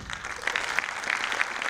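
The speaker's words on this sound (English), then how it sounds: "Can you join me and give a round of applause to our chief judge, Toastmaster Govinda Poon?" An audience at a Toastmasters evaluation contest gives a brief, steady round of applause, with dense clapping and no speech.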